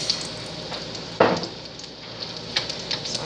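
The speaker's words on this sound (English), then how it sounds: "Oh, it is sizzling, isn't it?" Butter melts in a frying pan with a steady close crackling sizzle, a sharper burst of spattering midway and small pops scattered throughout.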